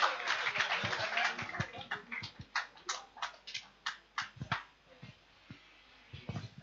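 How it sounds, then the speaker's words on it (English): Church congregation applauding together, a sustained patter of many hands that thins into scattered individual claps and fades toward the end, with a few sharper nearby claps. "Give me a round of applause, please."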